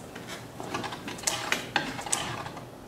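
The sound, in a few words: spinning a wheel of fortune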